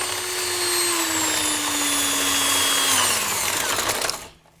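An electric mixer whirs steadily while blending a homemade ice cream mixture, a loud continuous motor whine that slowly drops in pitch before cutting off at the end.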